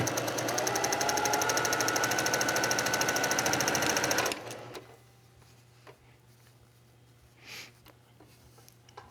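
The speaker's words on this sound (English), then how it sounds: "Let's take this to the sewing machine and get this block together." A sewing machine stitches fabric pieces of a die-cut quilt block together by chain piecing, a loud, steady rapid whir for about four seconds that then stops, leaving quiet room tone and a faint sniff.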